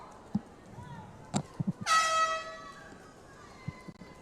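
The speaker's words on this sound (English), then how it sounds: "That air horn always causing a jump out of the spectators" A loud, harsh air horn blasts once for about half a second at a swim meet, amid quiet, scattered voices and splashy pool noise.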